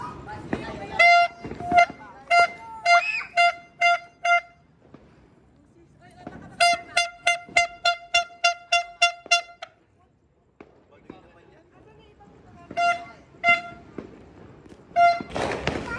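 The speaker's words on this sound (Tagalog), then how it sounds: "Oh, yung horn. Bigyan mo yung horn ni Alba." A party horn blares in rapid, repeated toots, with several quick bursts, a pause, then more blasts amid background chatter.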